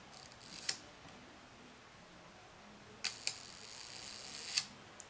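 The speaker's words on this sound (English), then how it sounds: "Let's listen to the amazing music to my ears that is the shutter at 1 second on this beautiful Rolleiflex K1 Model 612 Original." Rolleiflex K1 Model 612 Original camera shutter set to 1 second: a sharp click, a pair of clicks about two and a half seconds later, then another click after roughly a second more, all close and fairly faint in a quiet room.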